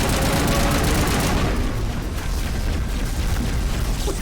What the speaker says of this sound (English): What keeps shooting me?